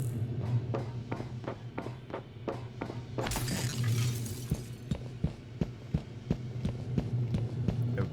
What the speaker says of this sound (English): So I can break the glass there.